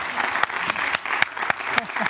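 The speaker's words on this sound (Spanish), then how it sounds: "¡Un aplauso!" Studio audience of a Spanish-language TV show breaks into applause, a dense clapping wash punctuated by sharp, evenly spaced louder claps in a brisk rhythm, with voices faintly mixed in over about two seconds.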